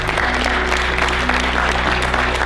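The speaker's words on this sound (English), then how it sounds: "Go ahead, clap, I saw you." A college audience claps for a motivational speaker on stage, sustained crowd applause filling the room over a low steady hum.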